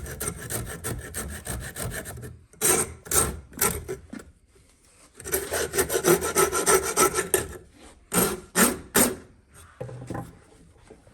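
Rasping material off the back of an LL Bean Hudson Bay axe, with repeated close, loud bursts of coarse scraping strokes separated by short pauses, no talking.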